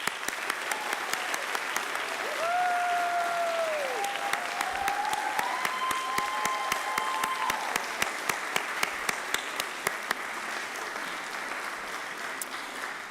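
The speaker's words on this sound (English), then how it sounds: "Please join me in one more round of applause for our graduates" Applause for graduates at a university commencement ceremony in a theater, a steady sustained ovation with scattered whistles and cheers across the crowd, lasting throughout.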